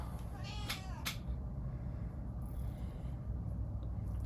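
An indoor pet cat gives two quick, plaintive meows close by, one right after the other, over a low steady room hum, then stays quiet for the remaining seconds.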